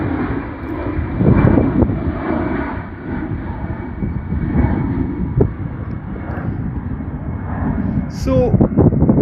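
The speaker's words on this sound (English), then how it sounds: "An easy jet heading away somewhere." An easyJet airliner flies overhead, and its engines make a loud, steady roar mixed with wind buffeting on the microphone. The roar swells and fades slightly over several seconds.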